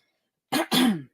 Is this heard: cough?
yes